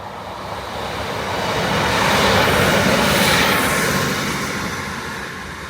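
A train passes on the Newcastle to Carlisle Railway near the River Tyne at Blaydon, a broad rushing rumble that swells to a peak mid-pass and then slowly fades, heard from a short distance with no talk.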